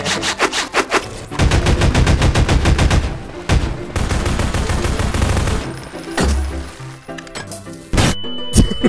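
Rapid video-game gunfire from Assassin's Creed fills the clip: a loud, continuous burst of automatic shots, then a ragged pause and a few more scattered cracks near the end.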